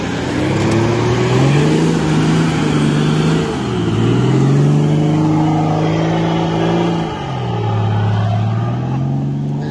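A DIY overland expedition vehicle fitted with new off-road tires, lockers and an aftermarket exhaust accelerates through its gears. The engine drones and revs loudly and up close, with two clear dips where it shifts.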